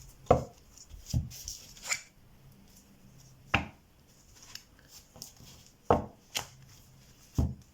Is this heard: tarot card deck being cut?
yes